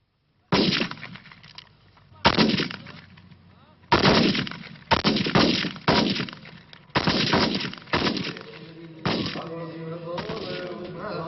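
Bursts of Egyptian shelling and gunfire crack out in a rapid series of loud, close blasts and rattling volleys, each with a ringing tail, across a wartime ceasefire line.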